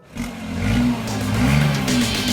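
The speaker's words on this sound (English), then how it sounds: "Start the car and first you have to rev it to know that the ignition is actually on" A BMW i8 hybrid supercar engine rumbles loudly and revs up after starting, its pitch rising and falling in a couple of throttle bursts with no one speaking.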